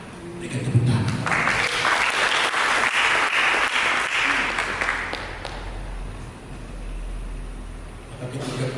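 A congregation at a church service breaks into applause that swells to a dense roar and then fades away after a few seconds, leaving a low rumble behind.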